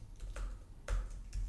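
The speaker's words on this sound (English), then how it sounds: "I just got this computer and I haven't got all my like keyboard stuff set up yet" Keystrokes on a new computer's keyboard, a few soft, irregular taps spread across a short stretch, fairly quiet and close with no voices.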